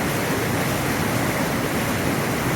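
The big waterfall at Khada pours in a steady, loud, broadband roar that stays unbroken throughout, with no voices.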